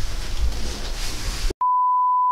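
A single steady censor beep tone cuts in after a stretch of muffled room noise and holds flat and loud until the end.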